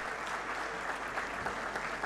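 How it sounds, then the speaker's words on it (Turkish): Continuous applause from a concert audience at a Turkish folk music performance, dense steady clapping filling the room at a moderate level. "Alkışlayan elleriniz dert görmesin ama daha güçlü bir alkış alalım efendim"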